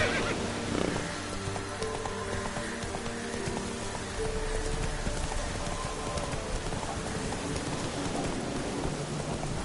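Roach the horse galloping in The Witcher 3, with rhythmic hoofbeats, a whinny and a patter of rain blended into steady game ambience at moderate level.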